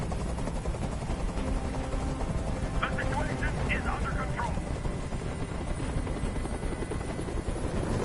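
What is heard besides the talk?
helicopter hovering in video game Detroit: Become Human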